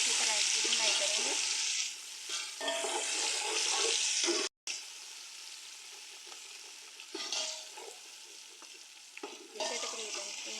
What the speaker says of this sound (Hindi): अब हम इसमें डालेंगे लहसुन अदरक का पेस्ट और साथ में हरी मिर्च का पेस्ट। इसे डाल के हम अच्छी तरह इसकी भुनाई करेंगे।